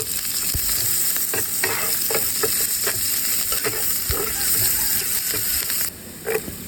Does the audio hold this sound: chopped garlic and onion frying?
yes